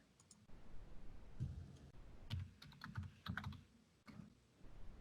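Rapid clicking of keys on a computer keyboard in irregular bursts, fairly close, with short pauses between runs of typing.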